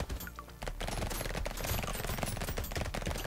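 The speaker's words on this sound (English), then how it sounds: "And those SMGs firing so fast." Rapid submachine-gun fire in the game Brotato, a dense and continuous stream of loud, fast shots layered with game effects that never pause.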